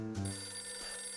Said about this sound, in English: It's my phone. Let's see who it is.